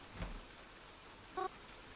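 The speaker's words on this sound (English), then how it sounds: "Is it raining outside?" Soft, steady rain falling outside in the video game Welcome to Blackwood, a faint continuous patter with a low thump and a brief tonal blip.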